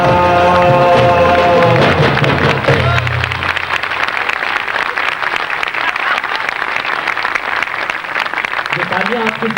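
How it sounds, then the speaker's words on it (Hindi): Audience applause for a singer at a cultural induction event, a loud sustained wash of clapping rising as the last sung notes and music fade, with a voice coming in at the end. "ये तालियां आपको सिर्फ गीत में खुश होकर नहीं बल्कि शुक्रिया की तालियां ही है"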